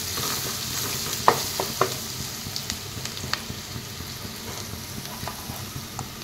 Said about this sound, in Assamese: হালধি গুড়ি দিছোঁ এচামুচ, জিৰাৰ গুড়ি দিছোঁ এচামুচ, ধনিয়াৰ গুড়ি দিছোঁ এচামুচ। এইখিনি এনেদৰে লৰাই দিছোঁ।